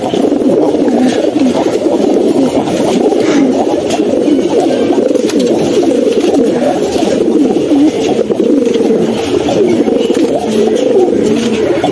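A breeding pair of pigeons, a male and a female offered for sale, coo continuously and close by in a low, throaty, overlapping murmur, loud and unbroken with no talk.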